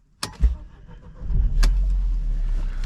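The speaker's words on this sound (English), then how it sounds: "Just start the engine." A Mercedes car engine cranks and starts after a few clicks and key sounds, then settles into a steady, close idle rumble with no one talking.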